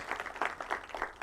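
A commencement audience gives brief, soft applause, scattered claps rising and falling in quick bursts and heard from a distance.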